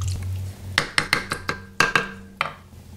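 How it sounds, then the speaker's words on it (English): Chili being stirred in a pot while cheese melts into it, a spoon knocking and scraping against the pot in a run of about eight sharp, close clinks and clatters at an uneven rhythm, with no talking. "So I need to mix it up and let all this cheese melt."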